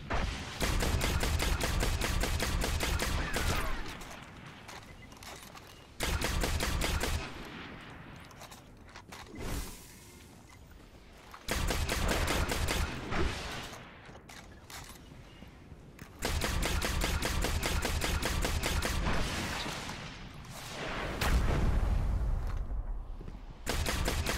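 Bursts of rapid automatic gunfire from the Destiny game during the Nightfall strike against Valus Ta'aurc, several dense volleys several seconds long broken by quieter gaps, loud and close with no talk.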